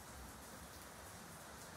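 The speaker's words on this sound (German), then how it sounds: "It's raining outside, do you hear that?" Steady rain falls outside, a soft, even hiss of drops with no breaks and no talking.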